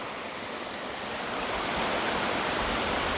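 A waterfall on a hidden forest trail in northern Thailand's Sankamphaeng–Mae On area roars as a constant, dense rush of falling water that grows louder as it is approached, with no voices.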